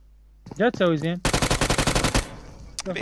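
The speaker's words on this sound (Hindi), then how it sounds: "अब एक ही बंदे ने डीबीएस से तीन बंदों को डाउन कर दिया" A DBS shotgun in a competitive mobile shooter game fires a fast, loud string of blasts lasting about a second, after a short burst of voice, with another voice returning at the end.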